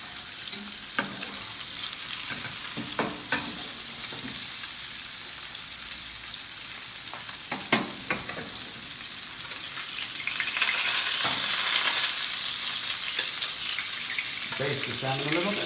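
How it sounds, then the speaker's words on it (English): Salmon trout sizzling in a pan as butter is spooned over it to baste, a steady close frying hiss with scattered clicks and scrapes of utensils, brightening and growing louder partway through. "I'm just going to add a little bit of butter into the pan as well, and it's just going to baste it"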